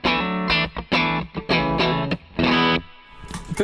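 Clean Telecaster tone through a Thorpy FX Veteran Si pedal, bright and harmonically rich, played as short choppy chord stabs with gaps between, loud and up close with no talking.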